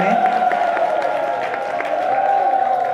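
Crowd applause for Narsingh Maharaj at a Kartik religious gathering, a steady wash of clapping that holds at even loudness for a few seconds.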